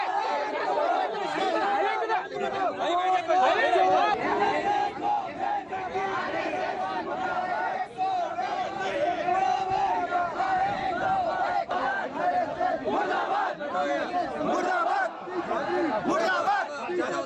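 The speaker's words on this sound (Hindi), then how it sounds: "और उग्र भीड़ में शामिल कुछ लोगों ने यहां पर भी धार्मिक नारे लगाए।" An agitated crowd chants and shouts religious slogans, a dense, continuous roar of many voices held close and loud throughout, with no single voice standing out.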